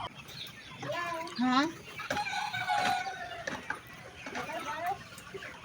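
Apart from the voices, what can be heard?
chickens clucking at a poultry farm in Bogura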